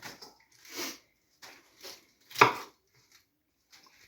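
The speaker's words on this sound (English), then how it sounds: "Okay, so I'm chopping into nice big bits." A knife chops tuna Niçoise salad ingredients into big pieces on a cutting board, giving a few separate, irregular close-up thuds with short quiet gaps between them.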